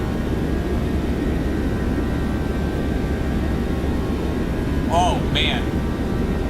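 A Boeing 737-800 rolls for takeoff in the X-Plane flight simulator with a steady, dense engine roar throughout. A brief cockpit tone and a short spoken remark cut in near the end.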